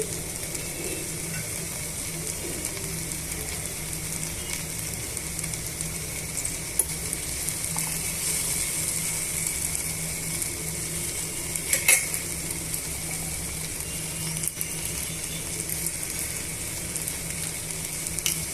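Three sprigs of curry leaves and chopped coriander sizzle steadily in hot oil in a pan, a continuous close crackling fry with occasional clinks of a utensil.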